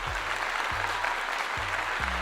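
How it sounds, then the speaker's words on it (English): Steady applause from an audience cheering a football recruit's commitment to Colorado under Coach Prime, dense and continuous, with a low musical drone and beat running underneath. "Let's give it a clap up again."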